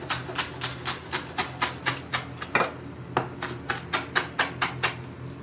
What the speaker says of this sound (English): We're gonna cut this real thin.